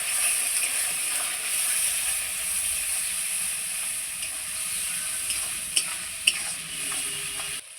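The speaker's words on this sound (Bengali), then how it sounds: "এই মশলাটা দিয়ে খুব সুন্দর করে আমি কষিয়ে নেব" Ground mustard, poppy seed, garlic and ginger paste sizzling steadily in hot oil for a Bengali pabda fish curry, a continuous frying hiss with a couple of sharp stirring knocks near the end.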